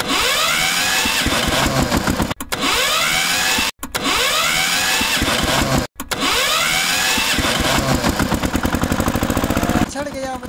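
A toy tractor's electronic engine sound loops loudly, a buzzy revving drone that cuts out briefly three times before restarting, with a rapid rattling pulse toward the end.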